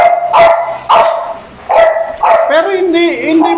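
French bulldogs barking and yipping close by in loud repeated bursts, turning into a whining, wavering whimper toward the end.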